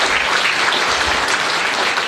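Brief burst of crowd applause for a survivor at a child protection town hall meeting, loud, even clapping throughout with no voices over it.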